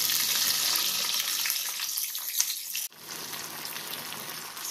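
Onion paste frying in hot oil in a heated frying pan, a steady loud sizzle that stays continuous throughout, briefly dipping near the end before resuming.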